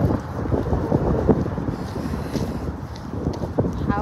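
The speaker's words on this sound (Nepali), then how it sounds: "चिसो चलिरहेछ हावा होइन।" Cold wind gusts across a bus station, buffeting the microphone with a steady low rumble and rustle throughout, faint background sounds beneath.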